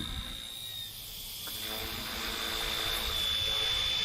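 Small RC ERA Bell 206 model helicopter spooling up outdoors, a thin high-pitched electric whine with rotor buzz building steadily in loudness as it lifts off.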